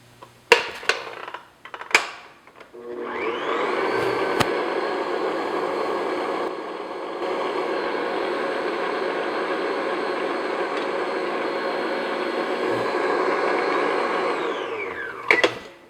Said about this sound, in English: I'm going to beat that just until stiff peaks